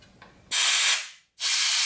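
Compressed air hisses through the carburetor nozzle of a Western Auto 5 hp boat motor in two loud, steady bursts separated by a brief silence, with no voices.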